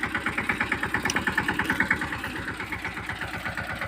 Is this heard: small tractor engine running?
yes